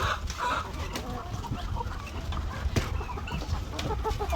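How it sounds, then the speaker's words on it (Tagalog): Chickens cluck and murmur close by while eating, with soft pecking and scratching sounds scattered throughout, a busy farm flock heard without any talking. "So ito mga ka-farmers, kumakain yung mga manok natin"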